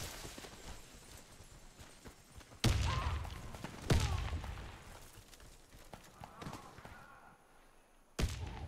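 Grenade explosions in a Warface match, several sudden loud booms with decaying rumbles, separated by quieter stretches of gunfire and background battle noise.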